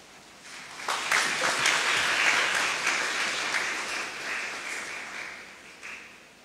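A church congregation applauds while a pastor is welcomed with a bouquet at a house festival service in Nandurbar. Dense, even clapping swells early, holds steady, then thins out near the end, with no voices over it.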